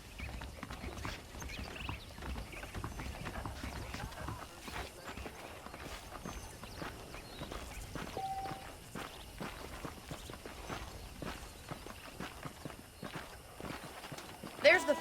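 Horse hooves clip-clopping at a walking pace in Red Dead Redemption on a dirt road, a steady rhythmic stream of hoofbeats beneath ongoing conversation between characters, with a faint mechanical rattle in the background.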